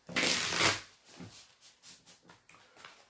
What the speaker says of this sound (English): So the very noisy shuffling, part of the process.